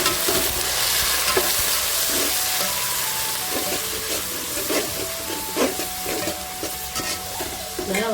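Coriander and mint being stirred and sautéed with softened onions in a pan, a loud continuous sizzle and hiss broken by repeated scraping strokes of a spatula.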